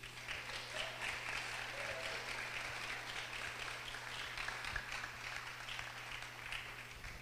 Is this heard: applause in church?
yes